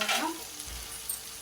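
Onions sautéing in a pan for egg masala curry give a faint, soft sizzle, with a slightly stronger burst of hiss at the very start and a low, even frying sound that continues briefly with no talking.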